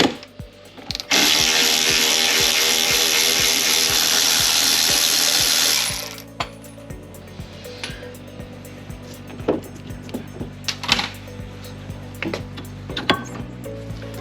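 A power ratchet works on the bottom shock absorber mounting of a Club Car Precedent golf cart, a loud continuous whirring burst for several seconds, then scattered clicks and metallic knocks.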